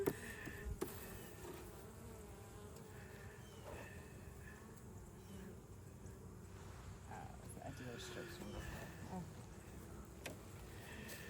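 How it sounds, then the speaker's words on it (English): A steady hum of many bees buzzing close by during a hive inspection, a continuous drone with occasional louder passes and faint handling noises. "Bees."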